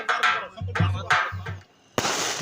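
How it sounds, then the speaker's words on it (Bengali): Fireworks set off at the opening puja of the Vidyasagar fair in 2024, giving a sharp loud burst with broadband crackle near the end, after several seconds of talking and crowd voices. "ব্যানার মধ্যে আতসবাজি বা আকাশ চুরচুরি নামে সেটি ফাটানো হচ্ছে"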